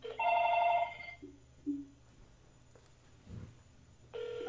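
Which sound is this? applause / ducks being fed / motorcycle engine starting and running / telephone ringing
telephone ringing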